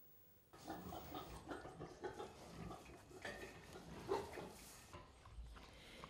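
Pigs on a farm near Kempen, Germany, grunting and snuffling at close range, with scattered clanks and rustling around them in a barn-like space.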